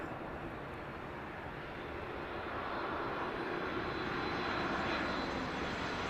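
A Boeing 737 Max flies past near Heathrow Airport with a steady, broad engine roar that swells gradually, loud and close and heard without speech.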